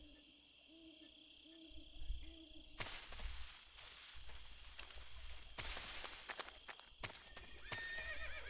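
A horse whinnies and snorts in the video game Metal Gear Solid 3, followed by hoof clip-clops and rustling over a jungle backdrop of crickets and an owl hooting.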